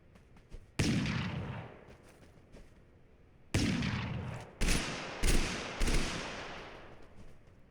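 Gunfire in the battle royale game Totally Accurate Battlegrounds: a handful of sharp, loud shots, one early and then a rapid cluster of four, each with a decaying tail, against a quiet background and with no talking.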